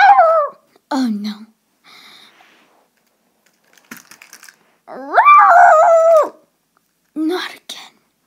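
A big dog barking and growling during an attack, heard as several sharp bursts and a longer snarling stretch separated by silence, with faint clicks in between.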